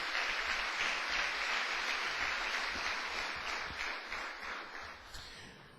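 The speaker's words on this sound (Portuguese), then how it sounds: "Agora você pode dar outra salva de palmas para o Senhor Jesus." A church congregation applauds continuously, a dense, steady wash of many hands clapping that slowly fades toward the end.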